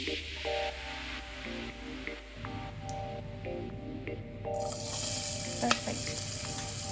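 Olive oil sizzles in a pan with a steady, moderate frying hiss and a few stirring scrapes, heard without talk, growing a little brighter toward the end.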